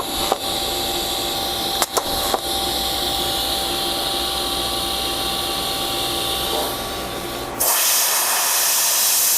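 A TIG welding arc on silicon bronze gives a steady, loud electrical hiss and hum with a few brief crackles, then cuts off abruptly near the end, leaving a quieter room tone.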